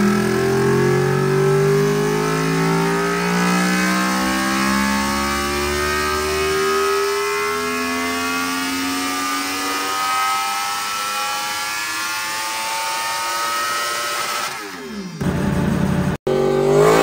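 A 2023 Yamaha YZF R1 sport motorcycle engine on its stock map revs hard and high, holding a loud howling pitch for several seconds before cutting off abruptly.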